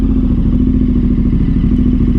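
KTM 1290 Super Adventure R motorcycle under way, a close, steady, throbbing engine note with fast rhythmic pulsing and a slight clatter throughout, no voices.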